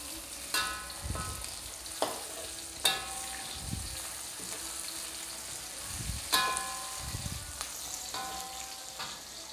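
Chicken frying in hot oil for Indonesian ayam penyet, with pandan leaves in the pan, gives a steady crackling sizzle throughout and a few louder spatters and stirs scattered across it, with no talking.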